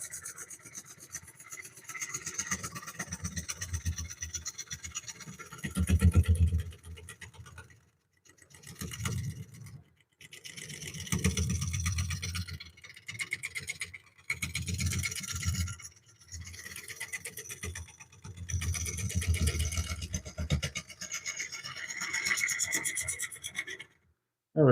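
A scraper cuts into a wooden bowl spinning on a lathe, giving a rough rasping scrape in repeated passes with short pauses between them, close and fairly loud with a low rumble underneath.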